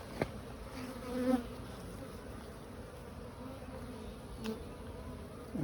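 Honeybees buzz faintly and steadily around an open beehive during a week-three inspection, a soft continuous hum with a few brief louder passes near the microphone.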